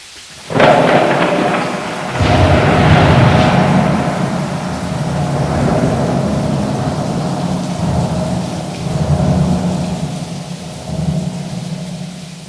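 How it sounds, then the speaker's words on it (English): Loud thunder cracks and rolls through a heavy rainstorm after hot weather, a sharp close clap followed by long rumbling that fades into a constant downpour, with another deep roll near the end. "So after the heat comes the storm."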